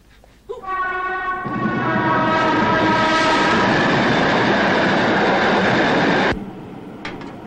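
A train horn blares as a train approaches, then a loud rumbling roar of cars rushes past for several seconds before cutting off abruptly.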